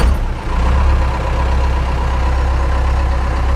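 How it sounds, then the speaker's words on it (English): Heavy truck engine idling with a steady low rumble and a slight uneven surge in pitch, close and continuous with no talk. "I think this thing's starting to surge at idle"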